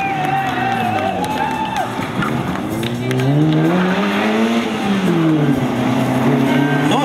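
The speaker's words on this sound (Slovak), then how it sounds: "Na Peugeot 205, to je takisto už dnes legendárne vozidlo." A Peugeot 205 rally car drives past on a mountain hillclimb course, its engine loud and close, the note climbing and falling through gear changes over a constant roar of crowd and ambient noise.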